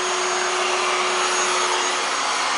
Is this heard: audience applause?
no